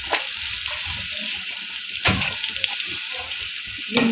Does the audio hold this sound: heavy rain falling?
no